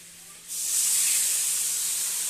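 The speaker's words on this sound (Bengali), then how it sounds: "এবার আমি দিয়ে দেব জল" Water poured into a hot pan of potato curry sets off a sudden loud, steady hiss of steam that starts abruptly and holds at full strength, close by with no talk.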